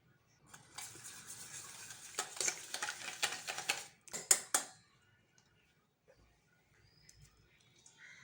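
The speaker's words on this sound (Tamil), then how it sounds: "இந்த முட்டையோட மிளகுத்தூள், உப்பு, மஞ்சத்தூள் சேர்த்து நல்லா கலந்துக்கங்க." Eggs are beaten with pepper, salt and turmeric in a bowl, a few seconds of brisk scraping and stirring with clinks against the bowl, then it fades to near silence.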